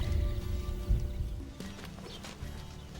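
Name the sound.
hooves of wild horse colts being moved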